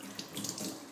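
Tap water runs into a sink as rubber stamps are rinsed clean of residue, a brief, soft, steady splashing stream heard close by without any voices.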